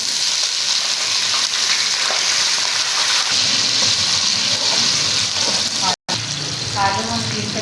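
Potato pieces sizzle and fry steadily in a hot pan of oil for aloo rice, a continuous loud crackling hiss with one brief dropout near the end.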